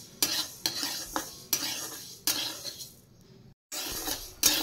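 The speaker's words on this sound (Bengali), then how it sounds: "মুগ ডালটা ভেজে নিই।" A utensil scrapes and stirs repeatedly in a pan, rhythmic metallic strokes over a soft sizzle of something dry-frying close up.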